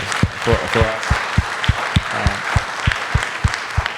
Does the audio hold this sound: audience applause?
yes